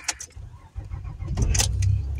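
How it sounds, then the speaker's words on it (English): Someone starts a car on a wet, slushy snow-day morning, with a few jangling keys first and then the engine cranking and catching into a low, steady idle, heard close up. "I'ma turn on my car"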